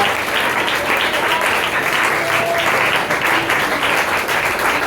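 Church congregation clapping in praise, a steady, dense wash of applause filling the room for the whole stretch, loud and close with no break.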